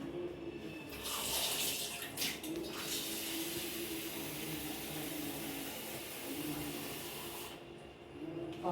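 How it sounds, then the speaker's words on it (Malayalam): Water runs from a tap as a cooking pot is rinsed, a steady hissing stream with splashy surges and clatter near the start, fairly soft and continuous. "പാത്രം എടുത്ത് കഴുകിയിട്ട് നമ്മൾ കുറച്ച് വെള്ളം എടുക്കണം"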